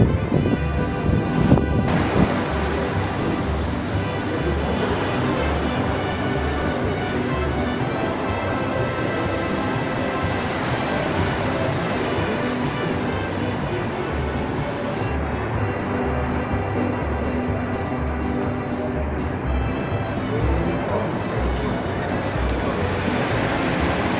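Ocean surf rolls in below a hotel room balcony, a broad continuous wash of waves mixed with gusty wind buffeting the microphone, steady throughout.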